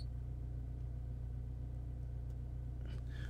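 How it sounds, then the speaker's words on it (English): An R56 Mini Cooper S engine idles steadily in a low, even hum, heard from inside the car. A few faint clicks and light tones come in near the end. "let me go ahead and turn on the engine"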